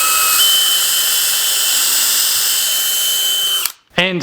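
A power drill drives screws into the wooden feet of a candy cane stocking holder, running loud and steady for several seconds at close range before cutting off with a short whir at the end.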